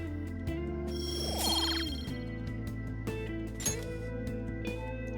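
A telephone rings in the video game Persona 5 Royal, a repeating electronic ringtone over soft background music, clear and steady without speech.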